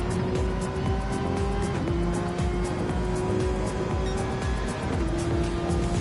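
GT3 race cars in Gran Turismo 7 lap the Red Bull Ring, engines droning loudly and continuously with shifting pitch as gears change, tires squealing through corners.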